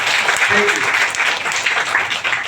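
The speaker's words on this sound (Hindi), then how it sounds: "एक जोरदार ताली इस कंपनी के लिए होनी चाहिए" Loud, dense applause from a gathered crowd cheering for a company, steady clapping throughout with a brief voice heard beneath it.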